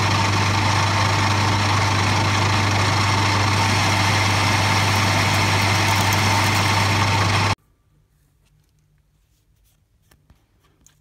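Metal lathe turning a workpiece at raised spindle speed, a loud steady machining drone with low hum that runs continuously for about seven seconds, then cuts off abruptly into near silence.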